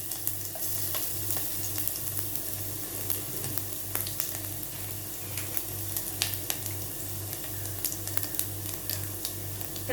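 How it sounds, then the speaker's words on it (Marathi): Garlic and cumin seeds sizzle steadily in hot oil in a pan while tomato soup is being made, a continuous close frying hiss with small crackles and a low steady hum underneath. "तेल बऱ्यापैकी तापलंय, त्यामध्ये आपण जिरं घालून घेणार आहोत"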